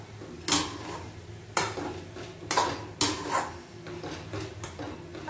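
Carrot halwa stirred in a pot, with a series of sharp scraping clinks of a spoon against metal about every second, close and clear over a soft background, with no talking.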